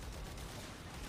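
Sustained fire from the Mausolon heavy weapon in Warframe, a thick constant roar of shots, near and steady, heard alone without speech.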